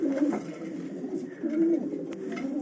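Racing pigeons cooing close by in a loft, a few soft throaty coos in short bursts against a quiet background.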